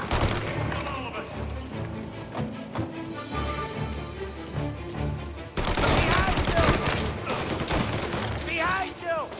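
Rapid bursts of gunfire crackle through a shootout in the video game Mafia Definitive Edition, set in 1933, with repeated close shots layered over tense background music and a sudden louder volley partway through.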